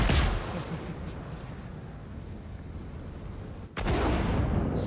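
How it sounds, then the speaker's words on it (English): A spaceship cannon fires in a Star Citizen space battle, with a loud booming blast at the start, a rumbling decay, then another heavy burst near the end, all without talking. "Who's ripping the cannon?"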